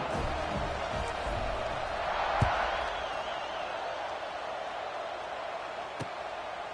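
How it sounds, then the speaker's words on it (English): A football stadium crowd buzzes after a touchdown, a broad, continuous roar of many voices that swells briefly near the middle, with a couple of sharp thuds and a commentator talking over it. "this crowd is buzzing after that last score"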